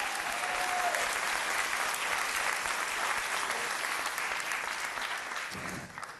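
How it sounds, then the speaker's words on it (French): A live audience at a comedy-song stage show claps in a sustained, full round of applause that fades slightly near the end. "un jour, ces applaudissements seront pour toi"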